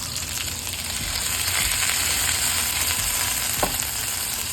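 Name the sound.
ground beef browning in a pot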